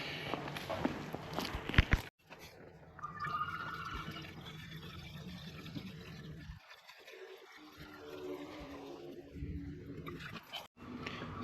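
Water poured into the cooling system of a Daimler XJ Series 2 during a water pump and gasket replacement, a steady close trickle and gurgle of liquid filling the system, running continuously with small shifts in flow and no talk.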